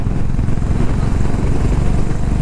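A Honda CB350 RS motorcycle engine drones steadily while riding on Spiti mountain roads, a continuous low rumble mixed with wind, close and fairly loud.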